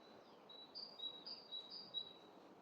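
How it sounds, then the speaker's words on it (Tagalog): Faint, high bird chirps repeat in a short series over a soft background hiss, distant and quiet, in a residential neighbourhood in Finland. "Ang sarap pakinggan ng mga ibon."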